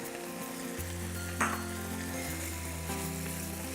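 Fried rice with oyster sauce and sriracha sizzles steadily in a hot pan, a close, even crackle with a brief stirring scrape partway through.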